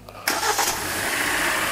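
A Hyundai Elantra engine cranks and catches after a quiet moment, then settles into a steady, fairly loud idle close by.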